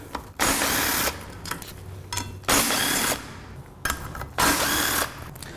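A power ratchet fitted with a 10 mm socket spins out three cover retaining bolts, giving loud whirring bursts separated by short pauses of quieter handling.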